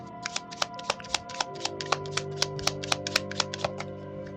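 Tarot cards are shuffled by hand in a quick run of crisp riffling flicks, each a sharp papery snap, repeating steadily and close over a faint background hum, with no talk.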